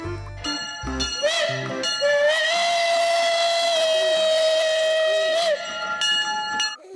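A classic steam train whistle blows one long, loud, steady shrill tone with hiss at its start and end, heard from a toy vehicle, with no talking over it.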